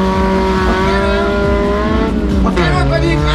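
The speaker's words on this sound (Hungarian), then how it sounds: "Középmotoros hátsó kerekes, benne hátul egy 2 literes szívó Opel motor." Loud, close roar of a mid-engine, rear-wheel-drive race car with a 2-litre naturally aspirated Opel engine, its harmonic drone rising and falling as it revs hard.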